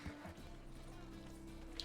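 Horse hooves clip-clopping in The Witcher 3 next-gen edition, a steady rapid patter of game footfalls under constant engine and music hum, with faint speech in the background.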